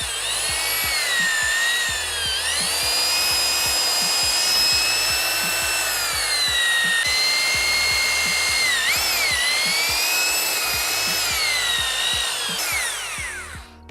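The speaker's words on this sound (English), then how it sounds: "grab your drill with the tool attached and you're gonna start polishing" A handheld drill with a polishing attachment buffs a vehicle exhaust tip, a loud steady motor whine with shifting tonal pitch and a rhythmic low rumble running continuously, no talk.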